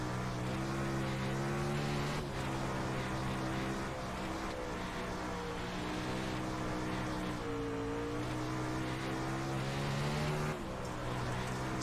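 A 360 sprint car engine roars as the car slides around the corners of a dry dirt track, loud and close throughout, its pitch rising and falling as the throttle is feathered through each turn.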